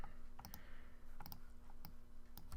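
Faint, sparse clicks of typing on a computer keyboard, a few quick keystrokes in small clusters over a quiet electrical hum.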